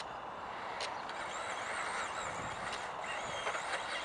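A Tamiya Hornet RC car with a Black Sport Tuned motor drives over a rough surface, giving a faint high electric whine and gravelly rolling noise with brief squeals.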